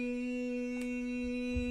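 A single piano note, a B, sustains steadily and fairly softly, with a faint key strike partway through and no voices.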